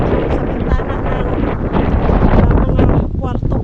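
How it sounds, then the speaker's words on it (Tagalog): Strong wind roars continuously and loudly against a hotel window in Finland, a dense, rumbling rush that buffets the microphone, with a voice speaking over it near the end. "naririnig ko talaga yung ingay ng hangin doon sa bintana"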